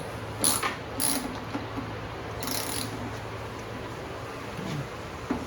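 A ratchet wrench loosens a bolt on a Harley-Davidson motorcycle, giving a few short, crisp metallic clicks at close range over a steady low hum.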